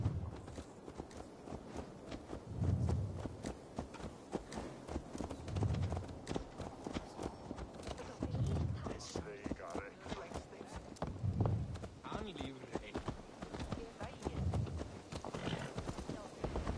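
Horse hooves clip-clop in a steady walking rhythm through Assassin's Creed Valhalla gameplay, close and continuous for the whole stretch, with occasional snorts and a whinny, under game ambience and faint voices.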